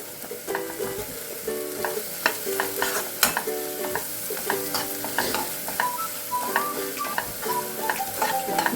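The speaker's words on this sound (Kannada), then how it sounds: "ಅದು ನೀಟಾಗಿ ಫ್ರೈ ಆಗಿರಬೇಕು." Onion and ginger garlic paste fry in a pan for masala egg curry, a steady sizzle under repeated scraping strokes of a stirring spoon, close and unbroken, with no voices.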